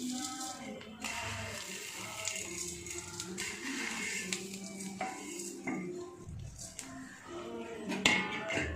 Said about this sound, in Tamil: அதே நெய்யில் வந்து பாயாசத்துக்கு தேவையான சேமியாவை போட்டு ரோஸ்ட் பண்ணி எடுத்துக்கலாம்